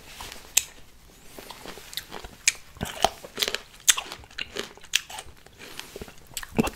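Crunchy biting and chewing of Thai mixed pickled fruits, with repeated crisp bites and wet chewing up close, irregular in rhythm and heard alone without talk.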